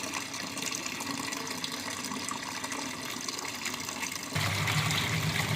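Water pours steadily into the tub of a Dawlance automatic washing machine as it fills, a constant rushing hiss that grows louder and fuller near the end, with no talking.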